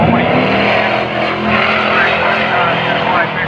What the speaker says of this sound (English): both cars coming up in the straight now to lead 640